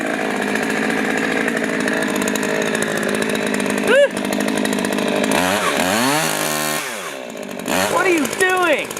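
A chainsaw runs with a steady buzzing drone, revving and bogging down near the end, while people talk loudly over it.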